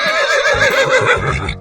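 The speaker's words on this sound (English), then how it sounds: "zebra," A zebra character in a 3D animal sliding game gives a loud, close whinny, a shaky, fluttering neigh lasting over a second and a half, heard alone without speech.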